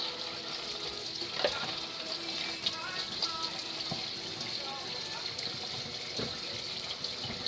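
Tap water runs steadily into a sink while a kitchen whisk is rinsed, a continuous close gush with faint clinks throughout.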